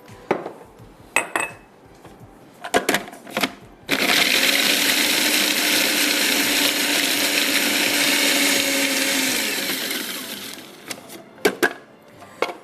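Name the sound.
food processor grinding cookies into crumbs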